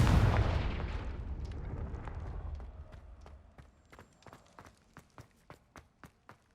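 Confringo fire spell cast in the Hogwarts Legacy video game: a loud rumbling explosion that slowly decays, followed by a regular series of sharp, quieter clicks or footsteps.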